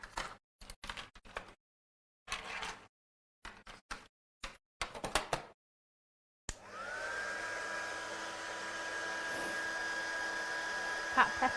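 An embossing heat gun blows steadily and loudly for several seconds after a stretch of intermittent clicks and handling noises, used on a textured lamination tree craft project.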